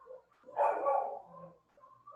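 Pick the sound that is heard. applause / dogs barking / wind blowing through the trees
dogs barking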